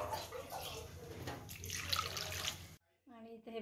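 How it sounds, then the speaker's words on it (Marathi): Coconut pieces are rinsed clean in water in a home kitchen, ahead of making coconut barfi: a steady, close splashing and sloshing that lasts almost three seconds, then stops suddenly before a voice begins speaking. "हे सगळे टवके नारळाचे हे सगळे स्वच्छ धुवून घेते"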